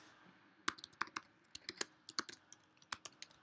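Someone types an email address on a computer keyboard: quick, irregular key clicks in short runs, close and fairly faint, with no talking.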